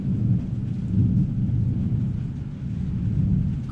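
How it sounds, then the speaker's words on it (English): Deep, rolling thunder over a heavy downpour at night, a dense, steady roar of pouring rain with low rumbles swelling and fading throughout. "crazy thunder"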